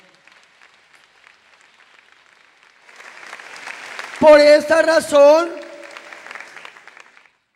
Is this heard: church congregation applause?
yes